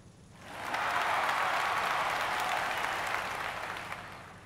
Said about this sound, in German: Ich finde Applaus gut.